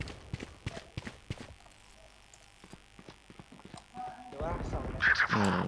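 Footsteps in the Valorant shooter game tap in a quick irregular run, moderately close, with game sounds around them. Players talk excitedly near the end.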